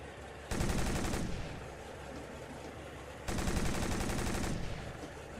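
Two long bursts of heavy automatic fire from an armoured vehicle in a military video game, each about a second long and loud and close, separated by a quieter gap of rumbling engine noise.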